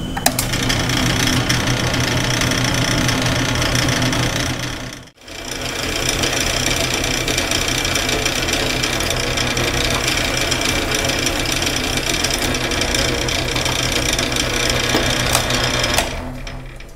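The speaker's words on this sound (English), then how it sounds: "we've got the quarter inch hole drilled through the rail and the fork" A drill bores a quarter-inch hole through a steel shift rail and fork on a Minneapolis-Moline 445 prototype tractor: a loud, continuous grinding chatter up close, with one brief pause partway through.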